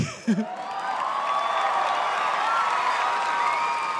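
Crowd at a televised Got Talent audition cheering and applauding in a steady, dense wash that swells after a brief vocal burst at the start and holds loud to the end.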